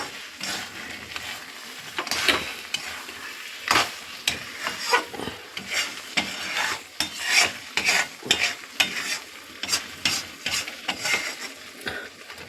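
A kul (jujube) pickle being stirred and mixed by hand in a pot, giving a run of irregular scraping, squelching strokes up close, with a light sizzle-like hiss between them and no talking.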